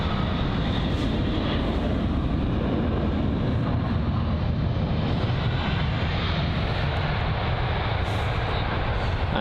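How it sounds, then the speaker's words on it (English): An Aer Lingus Airbus A320-200 jet at Heathrow produces a constant broadband rumble throughout, moderately loud and unchanging, with no voices. "we've got the Aer Lingus A320-200 from Shannon on its 1 hour and 1 minute long journey"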